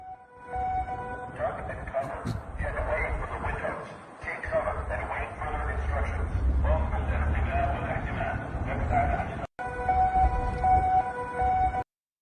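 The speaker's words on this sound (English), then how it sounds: "Sirens are blaring at the U.S. Embassy in Amman, Jordan." Sirens wail continuously at the U.S. Embassy in Amman, Jordan, with a steady rising and falling tone, loud and sustained, while people talk underneath and a dog barks briefly.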